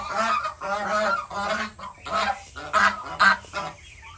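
Geese honk in a noisy flock while being fed on a morning farm, with repeated overlapping calls that come in loud bursts and sit close by.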